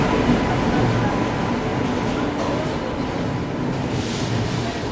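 A Kalyan shed WAP-7 electric locomotive hauling a train into platform 2 at an Indian station, a steady loud rumble and wash of rolling noise throughout, with faint voices in the background.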